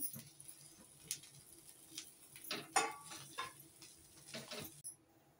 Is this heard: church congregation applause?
no